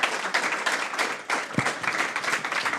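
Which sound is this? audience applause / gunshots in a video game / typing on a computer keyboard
audience applause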